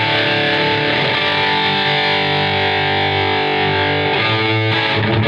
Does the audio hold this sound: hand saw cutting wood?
no